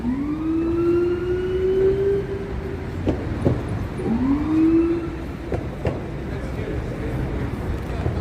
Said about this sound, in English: Here are the police cars.